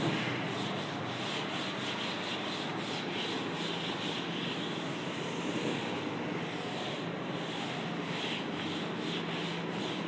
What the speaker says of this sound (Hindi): लेट मी रब द बोर्ड।